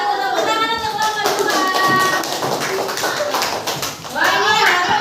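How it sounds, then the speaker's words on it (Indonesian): A classroom of students claps for a student group, a dense burst of hand claps mixed with children's excited voices, loud and close throughout. "Tepuk tangan untuk kelompok"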